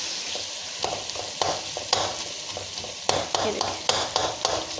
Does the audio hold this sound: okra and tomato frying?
yes